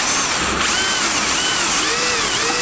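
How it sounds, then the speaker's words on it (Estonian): A power drill bores a cable hole for a traffic light at a street intersection, whining loudly and steadily at close range with a slightly wavering pitch and no break. "Ja nii kui puurid ta sisse ja tee natukene puuriga, lase allapoole ja siis kaabel saab sujuvamalt sisse."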